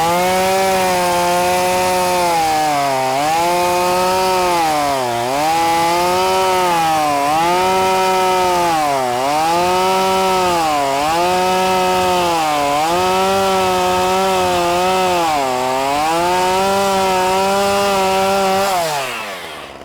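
Chainsaw bucking wood logs on the ground, a loud close engine snarl that dips and rises in regular cycles as the chain bites through the wood, steady for nearly twenty seconds before easing off at the end.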